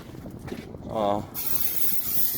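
Fluid Film undercoating sprayed beneath a new Jeep Gladiator, a steady close aerosol hiss that swells briefly then continues evenly, with someone talking over part of it.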